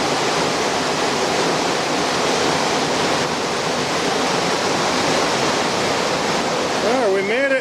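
A creek rushes beside a mine tunnel entrance, a loud, dense, close wash of flowing water that never lets up, with a brief voice near the end.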